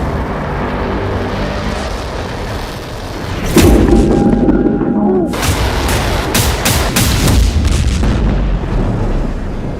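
Explosions and artillery fire in Beirut, in news footage: a continuous rumbling din with heavy booms, a sharp blast near the middle, then a rapid series of loud cracks, with faint voices underneath.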